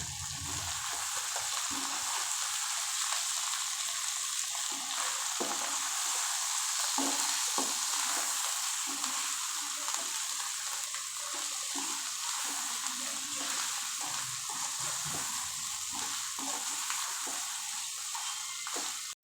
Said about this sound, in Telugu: శుభ్రంగా కడిగి పెట్టుకున్న పుదీనా కట్ చేసి పెట్టుకున్న కొత్తిమీర వీటన్నిటిని యాడ్ చేసుకొని చక్కగా స్పూన్తో కలుపుతూ ఉడికించుకోవాలి